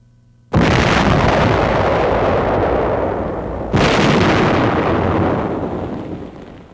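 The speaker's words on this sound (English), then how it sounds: "Holding the piece in battery with one hand, the gunner pushes the firing button." Two loud artillery gun blasts from a 1945 military demonstration, each a sudden heavy boom followed by a long rolling decay, spaced a few seconds apart with nothing else heard.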